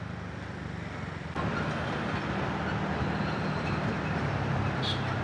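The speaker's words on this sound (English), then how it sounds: "This bus is squeaking and making a lot of noise from everywhere" A bus rattles and rumbles steadily while driving, a loud continuous broadband roar that swells slightly after the first second, with faint squeaks above the noise.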